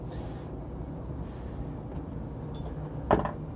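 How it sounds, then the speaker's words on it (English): A heater runs in the background as a steady, continuous broadband rushing hum, with a brief faint knock near the end. "that is the heater, believe it or not."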